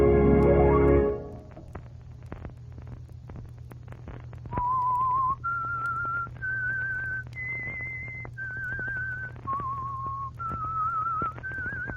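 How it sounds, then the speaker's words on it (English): A lone whistled melody, the theme tune of The Whistler radio show from 1950, rising and falling in several clear sustained notes over a low steady hum, after a brief burst of orchestral music at the start. "Let that whistle be your signal for the Signal Oil program"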